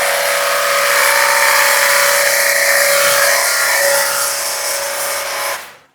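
A battery-powered pressure washer sprays detergent foam with a loud, steady hiss and a constant motor whine. The sound runs unbroken for several seconds and cuts off abruptly at the end.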